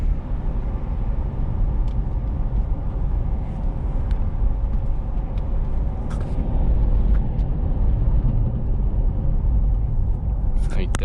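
A Toyota Prado VX drives along a wet road, its steady low road rumble and tyre hiss continuous throughout, with someone talking over the noise.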